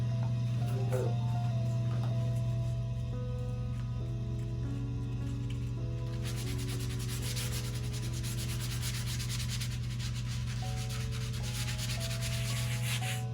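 Hand sanding of a handcrafted wooden frame with 100 grit sandpaper, rhythmic back-and-forth rubbing strokes up close, continuous and fairly loud with a steady hum underneath.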